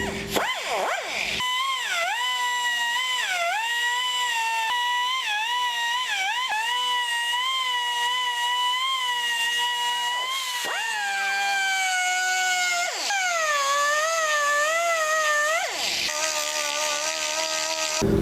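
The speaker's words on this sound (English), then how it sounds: "I'm going to use this die grinder and grind out the popper face." A die grinder shapes the face of a wooden popper fishing lure, its high whining motor held steady with dips and swoops in pitch as the bit bites into the wood, loud and continuous for nearly twenty seconds.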